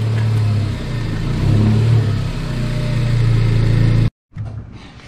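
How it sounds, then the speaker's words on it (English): A Ford Focus ST engine runs loud and close as the car pulls into a garage, a steady mid-range drone with a brief rev, then cutting off abruptly before a quieter idle-like tail. "I'm gonna pull the car into the garage"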